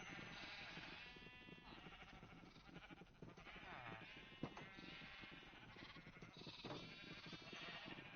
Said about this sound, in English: There's so many sheep!